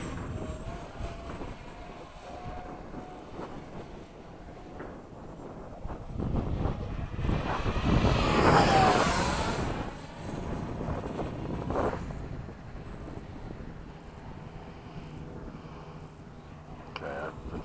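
An FMS 70mm F/A-18 model jet flies under cloudy skies, its ducted-fan whine faint at first, then swelling into a loud whooshing pass around the middle before fading back to a distant hum.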